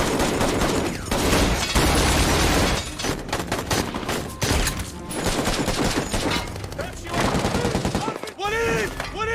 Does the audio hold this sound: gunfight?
yes